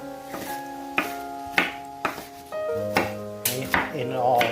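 A knife chops mushrooms on a board for a chili, about seven or eight sharp, distinct strikes at an uneven pace, close and clear, with a faint ringing tone between cuts.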